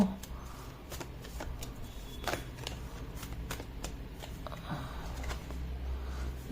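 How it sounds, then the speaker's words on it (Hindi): Tarot cards are shuffled and drawn by hand, giving soft, close riffling and papery taps at a low level over a quiet room background, with no one speaking. "चलो एक कार्ड यहाँ से निकाल के देखते हैं क्या गाइडेंस आता है हमको।"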